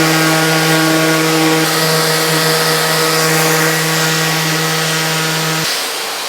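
A power sander with 80 grit sandpaper works a wood surface, a loud steady whine with a constant hum that runs close and unbroken, then cuts off near the end.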